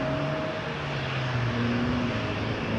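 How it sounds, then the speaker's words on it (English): An Endeavour Air CRJ900 regional jet flying for Delta Connection lines up on the runway at Toronto Pearson, a steady engine hum with whining tones and a low drone, moderately loud and continuous. "We got an Endeavour RJ900 to LaGuardia lining up next"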